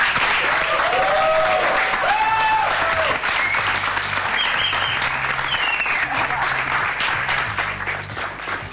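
A television studio audience on a late-night Portuguese talk show applauds a guest, Joana Barros, with loud sustained clapping and a few cheers, tapering slightly near the end.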